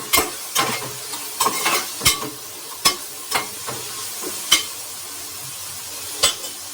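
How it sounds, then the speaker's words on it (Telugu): Vegetables fry in a pan after salt is added, a soft continuous sizzle broken by a string of sharp, close clinks and scrapes as a spoon stirs against the pan, with no voices. "సాల్ట్ యాడ్ చేసిన తర్వాత దాన్ని కాసేపు వేయనిద్దాం."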